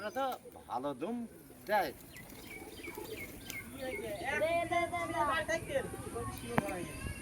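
Pigeons being sold at a pigeon sale coo and chirp softly under people talking nearby, with calls rising in the second half.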